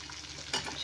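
Chicken fries in oil for popcorn chicken, a short burst of dense crackling sizzle with a louder surge midway.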